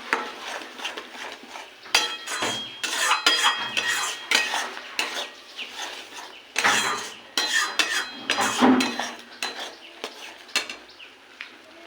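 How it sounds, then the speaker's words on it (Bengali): Spices with tomato, salt and turmeric being stirred and fried in a pan: repeated close scraping and clattering of a spoon against metal in irregular bursts over a low sizzle, continuing throughout without speech. "এটাকে নাড়বো এটাকে ভালো করে ভাজতে হবে"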